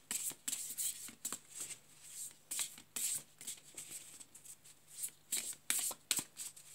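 Oracle cards are shuffled by hand before a draw, giving a quick run of crisp, papery riffles and slaps in irregular bursts, close and fairly quiet, with no talking.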